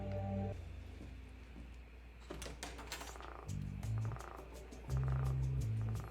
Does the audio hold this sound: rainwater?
no